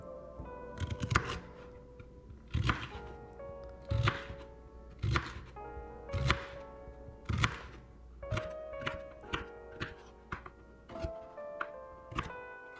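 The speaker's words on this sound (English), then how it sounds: "I can chop things really fast now" A knife chopping celery stalks on a cutting board, with steady, evenly spaced thunks about once a second, close and crisp, in a quiet kitchen.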